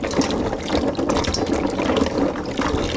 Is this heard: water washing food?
yes